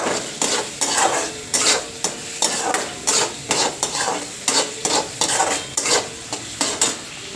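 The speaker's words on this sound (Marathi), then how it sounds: "अशा पद्धतीने सगळं हे कांदा जो आहे तो लाल करून घ्यायचा आहे आपल्याला" Onions frying in oil in a pan as they turn reddish, stirred with a utensil: a bright, loud sizzle with a steady rhythm of scraping strokes, roughly two per second, close by.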